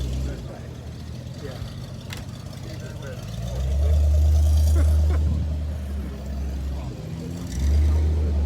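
A classic car engine idles at a car show with a low, steady rumble, swelling louder twice as it revs, with faint outdoor noise around it.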